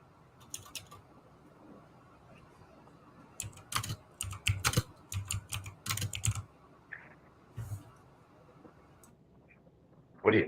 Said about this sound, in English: I got a mechanical keyboard.